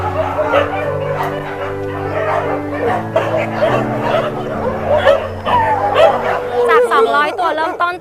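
Many dogs at a stray dog shelter bark and yip in overlapping bursts, close and loud, while a person talks over them.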